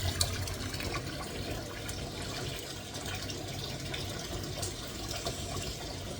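Tap water runs steadily into a sink being filled for washing dishes, a continuous close splashing rush with faint drips and clinks.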